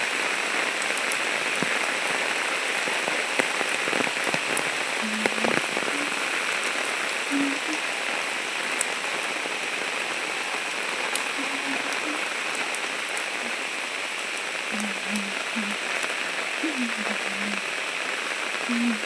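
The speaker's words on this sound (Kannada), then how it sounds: "ಸೊ ಇನ್ನೂ 3-4 ದಿನ ಇದೆ ಅನಿಸುತ್ತೆ ಮಳೆ." Heavy monsoon rain pours onto a village road, a dense and steady hiss of drops that stays close and loud from start to finish.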